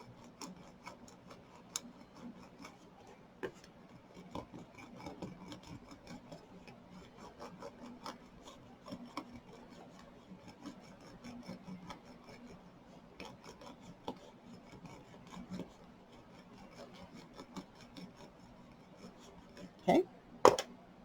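Steady rasping rubs as a diamond painting canvas is pressed hard all over to seal in the drills, a continuous scratchy friction texture with small ticks throughout and a couple of sharper knocks near the end, close and moderately quiet.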